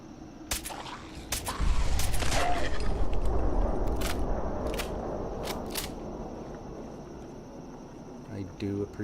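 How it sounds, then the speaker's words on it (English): Combat rifle fire in Fallout 4 against feral ghouls, several sharp separate shots cracking over a rumbling din and echoing, with a brief pause between bursts and a few quieter shots at the end. "I do appreciate this combat rifle for taking out feral ghouls"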